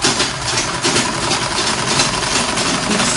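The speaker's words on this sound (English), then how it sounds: "keep sewing." An electric sewing machine stitches an Ankara fabric A-line skirt, giving a continuous, even motor whir with a fast steady hum and no pauses.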